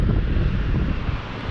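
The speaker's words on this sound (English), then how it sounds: "And it is windy, and this wind is chilly." Chilly wind in Horseheads, New York buffets the microphone with a steady, rough roar, constant throughout and without any talking.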